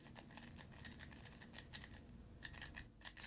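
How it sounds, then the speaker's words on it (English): YJ MGC 3x3 speed cube being turned, a faint, close, dry scratchy clicking in fast uneven runs, quieter and duller than a clacky cube, with no voices. "It's just so scratchy."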